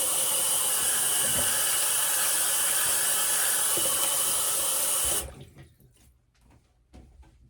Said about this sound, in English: I'm going to rinse the face here and we'll get the splash on